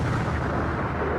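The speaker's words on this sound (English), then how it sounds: "I hear a huge explosion behind us" A huge explosion in the PS Vita game Code: Realize, a thick, sustained low rumbling blast that fills the moment at full loudness with no voices.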